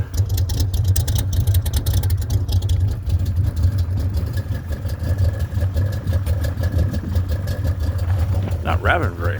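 A 1981 Camaro Z28 engine idling after a cold start with the choke on, a loud steady low rumble that holds throughout, with some talking over it and a brief whine near the end.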